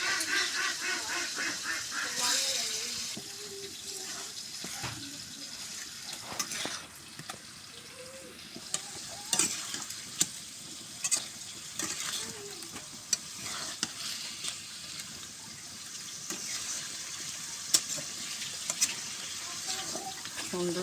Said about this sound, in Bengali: মাছ কষে রান্না করবো